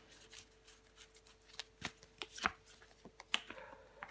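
Tarot cards are laid down one by one on a table, a series of soft, sharp slaps and flicks close by at an irregular pace, with a faint steady hum underneath.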